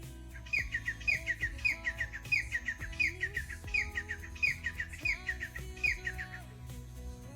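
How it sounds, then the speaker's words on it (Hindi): Many birds chirp and call loudly at sunrise, a repeating bright tweeting song over a dense chorus of other calls, steady and fairly close, with no talking. "उस समय पे सारे पक्षी सुबह बहुत जोर से चहचहाने और बोलने लगते हैं।"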